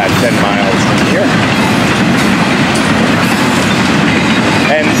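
An FEC freight train rolls past close by, a loud continuous rumble and clatter of wagons with rhythmic clickety-clack from the wheels and a faint squeal near the end.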